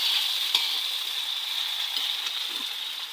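Food sautéing in a hot pan, a steady bright hiss of sizzling oil close by, with occasional soft clicks and taps of stirring, continuous throughout with no talk.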